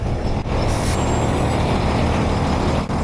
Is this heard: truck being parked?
yes